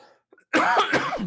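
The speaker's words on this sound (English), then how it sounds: "Just coughing." A faint breath, a short pause, then a loud, harsh cough close to the microphone, rough and raspy through its length.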